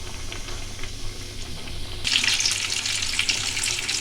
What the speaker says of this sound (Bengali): এক পিঠ ভালো করে ভাজা হলে তারপর আমি উল্টে দেবো।